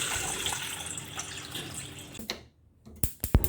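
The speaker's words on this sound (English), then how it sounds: "Now you may add your water to a pot." Water pours steadily into a pot for making jackfruit leaf tea, a continuous close splashing stream that stops abruptly, followed by a few sharp knocks.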